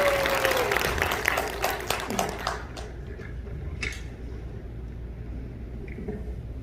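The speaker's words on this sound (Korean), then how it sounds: "큰 박수로 맞이해주시기 바랍니다." Clapping from a crowd at a political party rally greeting a speaker comes loud at first, then thins and tapers into scattered claps and a quieter room over the last few seconds.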